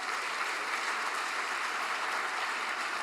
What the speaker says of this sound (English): I'd ask you to give them a round of applause.